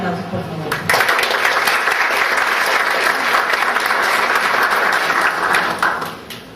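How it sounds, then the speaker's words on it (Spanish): Conference audience in Peru applauding a retired navy officer for a talk on the Hague ruling; steady, dense clapping starts about a second in and holds loud before tapering off at the end. "Unos aplausos, por favor."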